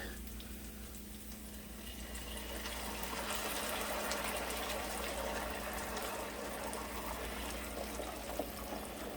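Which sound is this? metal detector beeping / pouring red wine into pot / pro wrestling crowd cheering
pouring red wine into pot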